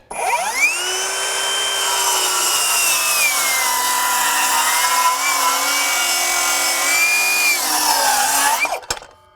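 A Metabo HPT 18V MultiVolt 7-1/4" cordless circular saw on the larger battery makes a 45-degree bevel cut through wood: a loud, steady high whine that spins up, holds through the cut for about eight seconds, then stops abruptly.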